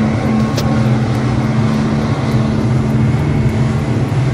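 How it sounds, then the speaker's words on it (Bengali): A speedboat travels from Hulhumalé toward Malé and Maafushi in the Maldives, its engine a loud, steady roar with constant hull and water rush and no break in the noise. "আমরা ফাইনালি স্পিড বোটে উঠে হলহুমালে থেকে মালে এবং মালে হয়ে মাফুসির উদ্দেশ্যে রওনা দিই।"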